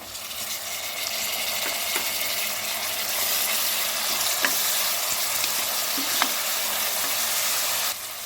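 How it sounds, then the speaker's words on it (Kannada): Onion and tomato fry in hot oil for vegetable pulao, a steady close sizzle with a few sharp spatter pops and light stirring, no talk over it. "ಈರುಳ್ಳಿ ಹಾಕ್ಕೊಳ್ತಾ ಇದ್ದೀನಿ. ಟೊಮೆಟೊ ಹಾಕ್ಕೊಳ್ತಾ ಇದ್ದೀನಿ."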